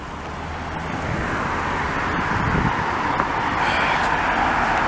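City bus rolling along a street in Montreal's NDG borough, a broad low rumble and traffic wash growing gradually louder over five seconds, mid-distance, with rattling hard to pick out from the roar.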